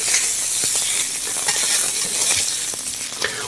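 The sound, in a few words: seitan browning in a frying pan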